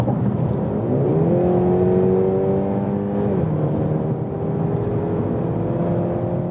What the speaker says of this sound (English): we go from 100 kilometers this time and accelerate it out